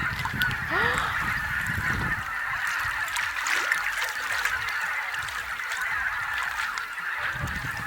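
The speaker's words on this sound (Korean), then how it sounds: "여러분 지금 엄청난 새소리들이 들리거든요?" Geese honking loudly near water at a bass fishing spot, a dense overlapping chorus of calls that carries on without pause across the whole stretch.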